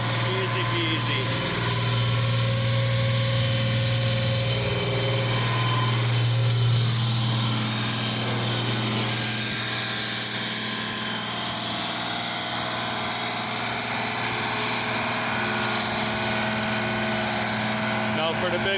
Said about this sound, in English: Now for the big loads in this tractor, I do have to run the mixer in low.